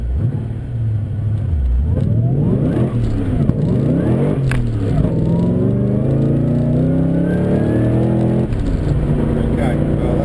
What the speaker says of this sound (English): I'm trying to get a strong takeoff from a standstill.